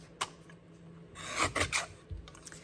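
A paper trimmer's blade slicing through a sheet of card, heard as a brief close rasping swish with a few soft scraping strokes, quiet and without speech.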